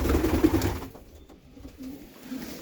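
Pigeons cooing inside a pigeon loft, a low soft throaty coo heard near at the start, then fainter rustling and muffled cooing in a quiet room.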